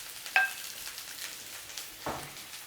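Onion frying in oil in a pan, a faint steady sizzle with a couple of soft scraping stirs and a brief clink near the start, no voices.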